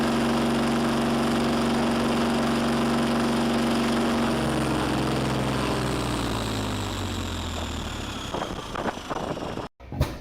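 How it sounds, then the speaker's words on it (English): A 50-horsepower Fairbanks Morse Type N stationary gas engine runs with a steady, deep low hum that slowly drops in pitch as it winds down, ending in a few faint clanks and a brief silence. "The 50-horsepower Fairbanks Morse Type N engine is one of the most iconic heavy-duty stationary gas engines"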